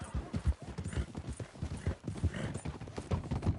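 Horse hooves gallop in Red Dead Redemption 2, a steady rapid clip-clop that stays close and loud through the whole stretch, with no talk over it.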